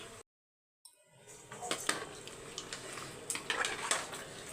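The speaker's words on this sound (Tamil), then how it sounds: "இப்போ மிக்சி ஜாரில் ஒரு ரெண்டு கிளாஸ் தண்ணி அலம்பி அப்படியே ஊற்றிக்கோங்க" Water sloshes and splashes while a mixer grinder jar is rinsed and its contents poured out, close and fairly loud, with clinking of kitchenware after a brief silent gap.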